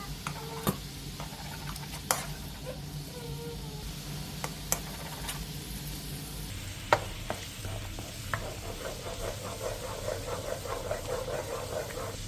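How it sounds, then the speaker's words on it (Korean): A pan of water, soju, dark soy sauce, oligosaccharide syrup and minced garlic heats on high, giving a steady hiss and bubbling with occasional spoon clicks and scrapes, close and moderately quiet throughout. "팬에 물 반컵, 소주 2스푼, 진간장 3스푼, 올리고당 2스푼, 다진 마늘 반 스푼을 넣고 센 불에서 한번 끓여주세요"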